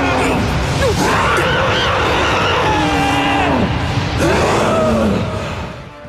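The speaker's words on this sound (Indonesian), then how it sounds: "Kemudian, Titan itu berteriak." Female Titan from the Attack on Titan anime letting out a loud, sustained scream with wavering pitch that rises and falls, dense and continuous across the whole stretch before tapering off at the end.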